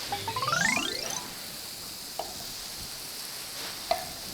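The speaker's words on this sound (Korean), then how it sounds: "지금 보시면 굉장히 갈색으로 잘 볶아지고 있죠." Mushrooms stir-fried in a pan until browned give a faint, steady sizzle. A few scraping stirs sound at the start, followed by light clinks.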